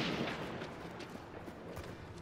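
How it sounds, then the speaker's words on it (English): Gunfire from Colt revolvers in the video game Hunt: Showdown, a dense rumbling volley of shots that fades into a sustained echoing tail, loud and heard without talk. "Making a shit ton of gunshot sounds."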